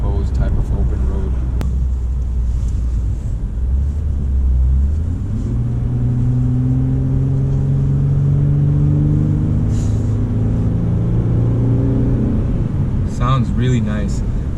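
A 2020 Lexus RC350 F-Sport AWD engine revs up and climbs through the gears on an open road, its pitch rising and dropping with each shift, loud and close, with a brief noise near the end.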